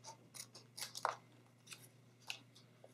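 Pinking scissors cut through card paper for a handmade masculine card, making a few quiet, close snips and one crisp crunching cut in a hushed room.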